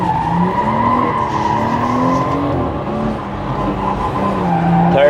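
A car drifting on a track with standing water, its tires skidding in a long continuous squeal over the engine's steady drone, loud and close for the whole stretch.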